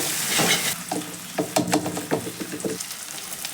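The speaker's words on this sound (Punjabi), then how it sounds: "ਇਹਨਾਂ ਨਾਲ ਕੜਛੀ ਵੀ ਚਲਾਉਂਦੇ ਰਹਿਣਾ ਹੈ ਤਾਂ ਜੋ ਪਿਆਜ਼ ਜ਼ਿਆਦਾ ਨਾ ਸੜ ਜਾਣ" Onions frying in oil for methi kadhi, stirred with a ladle: a loud close sizzle with a burst of hiss at the start, then a run of quick scraping clatters as the ladle works the pan.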